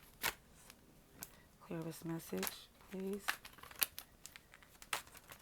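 Tarot cards shuffled by hand in quick crinkly bursts and soft slaps, close and fairly quiet, with a person speaking over part of it.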